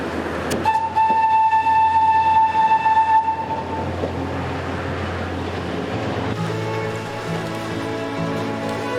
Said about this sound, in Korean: 보짱 열차는 도련님처럼 귀엽게 제 길을 갔다.